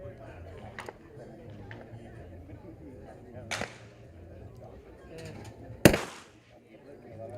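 Shotgun blasts at a men's trap shooting final at a World Cup in Rome: two sharp, loud, cracking reports a couple of seconds apart, with a fainter pop earlier, heard under a commentator's talk.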